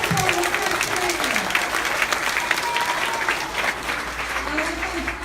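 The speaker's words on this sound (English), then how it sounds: "can we please give one big round of applause to all the people who came in to support our first training" An audience at a kids' team training event claps steadily and warmly for supporters, a dense sustained applause with a murmur of voices mixed in.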